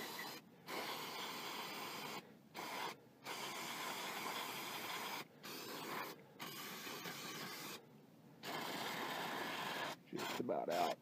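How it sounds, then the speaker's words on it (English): Brake cleaner sprays onto a rusted, seized idler arm bushing in repeated hissing bursts of a second or two, close and steady, broken by short gaps. "I'm going to hit them both with some brake clean."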